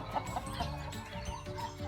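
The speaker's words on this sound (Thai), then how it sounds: "แวะชมไก่งวงบริเวณนี้" Turkeys on a farm gobble and cluck softly in a scattered, repeating chorus of short calls, heard at moderate distance with a faint outdoor background and no talking.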